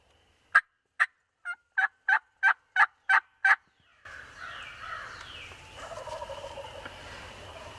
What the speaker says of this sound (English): We've got some gobblers gobbling.